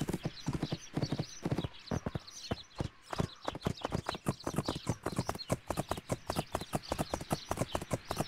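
Hooves clip-clop in a brisk, steady rhythm in a horse riding video game set around a riding stable, loud and close with no voices over them.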